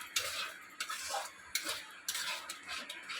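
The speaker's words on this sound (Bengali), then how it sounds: "এটা দেওয়ার পরে ভালো করে নাড়তে হবে।" Boiled lentils (dal) being stirred in a pot, a spoon scraping against the metal in repeated bright strokes about every half second, close and fairly quiet with no voices.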